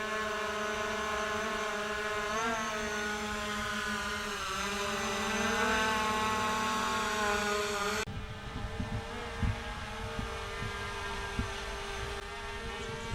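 A repaired drone that had been underwater runs its propellers with a steady, high buzzing whine that wavers in pitch. Partway through it gives way to a rougher, lower rumble with scattered knocks.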